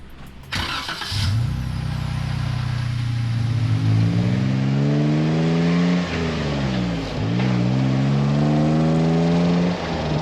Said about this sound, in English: The loop delete exhaust bit sounds crazy.